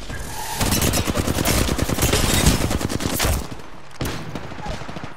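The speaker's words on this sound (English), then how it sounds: "They're shooting at me." Rapid bursts of enemy gunfire in the battle royale shooter Apex Legends, loud and close, several seconds of sustained automatic fire with a short pause before it resumes.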